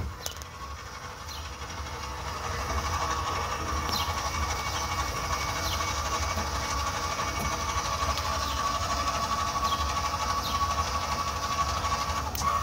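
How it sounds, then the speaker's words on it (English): Electric stabilizer jacks on a 2010 Coachmen Freedom Express 292 BHDS camper run with a steady mechanical motor whine and low rumbling hum that rises after a quiet start and holds constant. "Right here you got your switch for your stabilizer jacks in the back."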